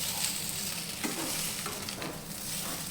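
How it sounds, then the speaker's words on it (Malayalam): Upma is stirred in a hot pan, with a continuous soft sizzle and the scrape of a spoon against the pan throughout. "ഇളക്കി നിറച്ച് കൊടുക്കാം"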